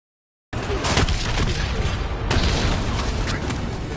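An APC blown apart in the Call of Duty Black Ops 3 campaign, a loud, dense roar of explosive blasts and crackling debris starting abruptly after a short silence and holding steady.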